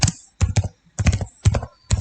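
Someone types code into an Android project on a computer keyboard, with close, crisp bursts of keystrokes in short clusters separated by brief pauses.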